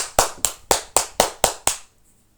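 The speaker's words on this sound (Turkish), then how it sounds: "Evet bir alkış alıyoruz." Seven crisp, evenly spaced hand claps at a wedding, close and loud, ending abruptly into near silence.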